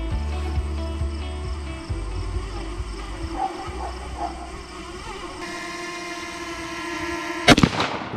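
A single sharp .410 shotgun blast fired by a young hunter outdoors, loud and close near the end after a stretch of quiet ambient noise.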